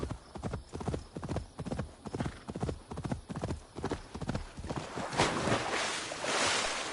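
A horse gallops in the video game Assassin's Creed Valhalla with a fast, even clip-clop of hooves that turns into a rushing, splashing wash near the end.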